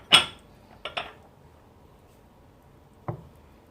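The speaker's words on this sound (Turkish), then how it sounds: "Karıştırıyorum." A spoon stirring turkey soup in a cooking pot, giving a few sparse metallic clinks and scrapes against the pot, one sharp knock then a couple of softer taps, in a quiet kitchen.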